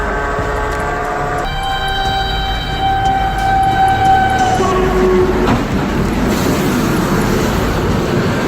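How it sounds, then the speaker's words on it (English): A train passing by at a close rail crossing, a loud steady rumble carrying sustained horn-like tones that shift pitch as it goes by. "Luckily, a train was passing by, and it helped the boys get out safely."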